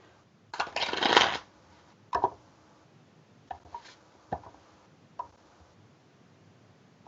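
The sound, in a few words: push through shuffle of playing cards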